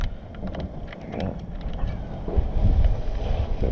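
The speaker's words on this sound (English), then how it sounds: "Bit windy." Wind blowing outdoors during a Golf GTI repair job, a steady broadband rush with gusts that swell louder toward the end, buffeting the microphone with low rumble.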